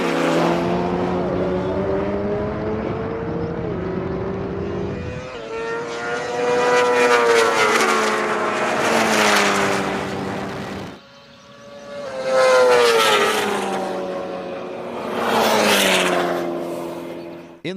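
A McLaren 720S with a twin-turbo V8 and a BMW S1000RR superbike launch side by side in a drag race, loud rising engine wails climbing through rapid gear changes in two long pulls, the second after a brief dip.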